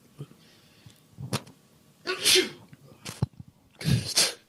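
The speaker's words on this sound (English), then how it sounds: "Now you're sick. There it is. Sneezing." A person sneezes sharply twice, with small thumps and rustles between, close to the listener.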